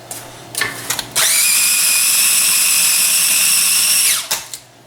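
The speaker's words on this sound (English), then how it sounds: "Blend it one more time." A blender whirs loudly at steady speed for about three seconds as pesto for penne pasta is blended, with short bursts and a few clatters before it starts and after it stops.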